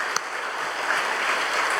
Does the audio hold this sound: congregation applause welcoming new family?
yes